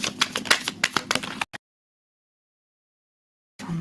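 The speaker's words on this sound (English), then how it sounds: "Let me just shuffle these cards again." Tarot cards being shuffled close up, a quick run of crisp riffling snaps for about a second and a half, then silence before a faint rustle returns.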